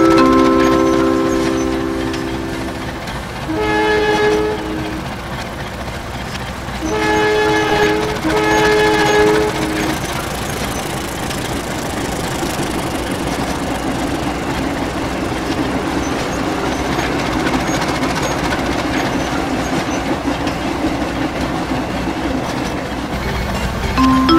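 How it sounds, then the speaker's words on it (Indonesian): A video game train from Trainz Simulator passes through Cirebon station in Indonesia, its horn sounding in several repeated toots early on, followed by a long steady rolling of wheels on track. "Jalur 3 dari arah timur akan melintas langsung kereta api menoreh."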